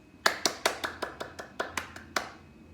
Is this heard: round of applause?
yes